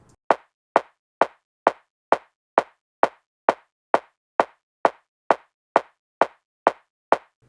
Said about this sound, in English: the compressor is reacting to the click of the kick rather than the full thing